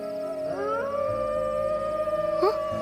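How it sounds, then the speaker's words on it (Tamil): A dog lets out a long, wavering howl, rising and sustained, with a second yelping rise near the end, fairly close. "நாய் வேற ஊல விடுது"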